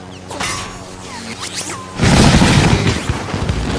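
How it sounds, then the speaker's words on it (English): A video game missile explosion: a whooshing, sweeping buildup gives way about halfway through to a loud, dense boom that rumbles on to the end. "Oh shit, missile."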